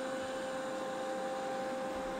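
Eufy 30c robot vacuum running during spot cleaning, a steady whirring hum with a constant whine, unbroken and moderately quiet throughout.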